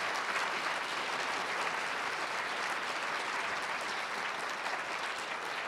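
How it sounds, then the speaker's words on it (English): Audience at a city mayoral debate applauding the candidates, a steady, dense wash of clapping from a large crowd that holds at an even level throughout with no speech over it. "A round of applause for our candidates."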